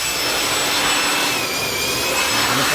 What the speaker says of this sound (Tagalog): Meron pa pala siyang blower mga idol.